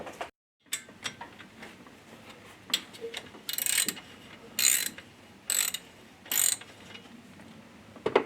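A hand ratchet loosens the alternator pivot bolt on a 1995 Subaru Legacy, giving several close, crisp clicking runs in short bursts, separated by quieter pauses.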